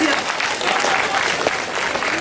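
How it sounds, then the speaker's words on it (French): At a sushi quiz event, a French-speaking crowd gives a short, lively round of applause, many hands clapping densely at a steady, fairly loud level. "On peut l'applaudir."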